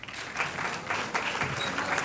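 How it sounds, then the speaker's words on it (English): Students at an eighth grade recognition program clap for their families in the audience, a dense, lively applause from a crowd that stays loud and steady with no voices on top. "You're clapping for your families right now."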